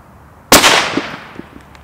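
Single loud shot from a Sako S20 sporting rifle on a range, a sharp crack followed by a rolling echo that fades out over about a second.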